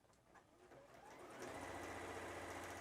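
A Juki HZL-F600 sewing machine stitching through fabric, its motor starting up and then running at a steady, close, continuous hum with needle clatter.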